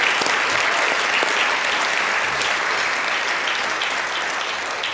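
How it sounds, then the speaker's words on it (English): An audience applauds steadily at an award presentation, a dense wash of clapping that keeps going and fades slightly toward the end. No voices come through over it. "Let's give them a round of applause."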